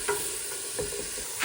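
Vegetables for a Tuscan ribollita soup fry in a pan with a steady, close broadband sizzle and a few soft stirring scrapes, with no voices.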